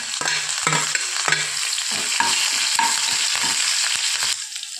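Mustard seeds, chopped garlic and chopped chillies sizzle loudly in hot oil, with repeated spoon scrapes and stirring strokes over a continuous frying hiss and no voices.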